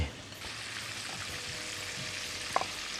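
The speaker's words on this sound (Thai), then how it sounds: "ไฟอ่อนๆไปเรื่อยๆนะครับเราจะทอดแบบให้เขาค่อยๆเหลืองแล้วหอมนะครับ" Chilies fry slowly in oil over low heat, giving a steady, close hiss of gentle sizzling with a brief faint clink near the end.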